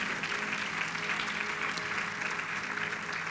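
A church congregation applauds steadily at a sermon, a dense even wash of clapping with a faint hum beneath, somewhat distant and soft.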